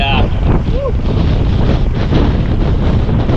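Strong wind buffeting the microphone outdoors near water during an iguana hunt, a loud continuous roar that fills the whole few seconds.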